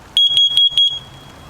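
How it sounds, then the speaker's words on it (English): A smoke detector in a small micro camper van sounds four sharp, piercing high-pitched beeps in quick, even succession during a test, close and loud, then falls silent. "That is such a high-pitched beep."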